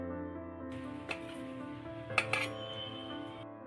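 Homemade coconut nankhatai cookies clink lightly against a plate as they are set down, with a few soft ceramic taps over a steady background hum.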